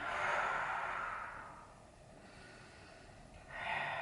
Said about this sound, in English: You're breathing into the nose and out through the mouth, please.